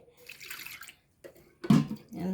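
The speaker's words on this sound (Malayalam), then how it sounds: "ആ മിക്സീൻ്റെ ജാറിലേക്ക് ലേശം വെള്ളമാക്കിയിട്ട് ആദ്യം ഒഴിച്ച് കൊടുക്കണ്ടേ" Water is poured into a mixer jar in short, faint splashes, with a fuller gush of liquid near the end.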